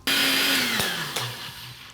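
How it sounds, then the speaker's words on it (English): Kitchen blender blitzing chili oil ingredients, a loud whirring motor run that shifts pitch as it spins down, with a clunk partway through and no voices. "Put it in your blender and blitz it up."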